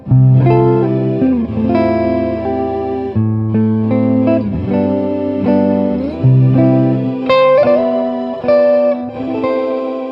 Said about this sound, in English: Let's see how it sounds if I combine the guitar with the organ sound.